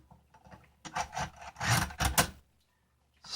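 An SKS rifle's recoil spring sliding into place during a field strip: brief scraping and rubbing metal noises in a few quick strokes, close to the microphone, with quiet pauses before and after.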